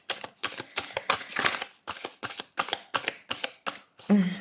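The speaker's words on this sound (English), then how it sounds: "I prefer to shuffle and allow jumpers out of the pack" A deck of oracle cards is shuffled by hand in quick, regular riffling bursts, about a dozen close crisp shuffles in a row, with a brief voiced sound at the end.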